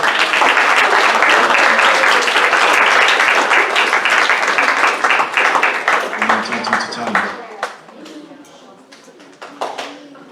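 A church congregation at a Samoan White Sunday morning service breaks into loud, sustained applause as a clap offering, the dense clapping thinning into scattered claps over several seconds.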